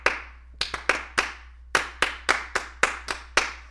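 A single person claps rhythmically during a podcast recording: about a dozen crisp, close hand claps in an uneven beat, with a short pause midway and no talking.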